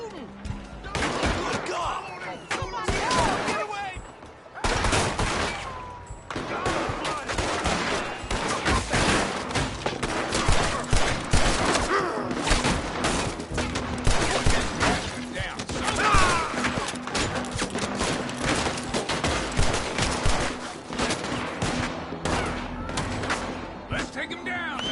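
Repeated gunfire from an old-West shootout in Red Dead, bursts of shots cracking loudly and densely for the whole stretch, mixed with shouting voices and crashes.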